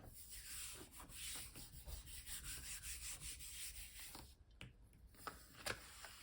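Charcoal rubbed by hand onto mixed media paper, a steady close scratchy rubbing with short back-and-forth strokes and a few brief taps near the end.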